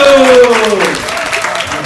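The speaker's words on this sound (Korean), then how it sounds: "박수!" Church congregation clapping during a group cheer session, a loud close burst of many hands with a sustained voice tone under it fading as the clapping carries on.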